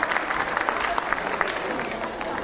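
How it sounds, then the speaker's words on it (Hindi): An audience at an Agrasen Jayanti celebration event claps in a steady, loud round of applause, with a crowd murmur under the clapping throughout. "मैं चाहूँगा सबको ताली बजा के उनका अभिवादन करना चाहिए।"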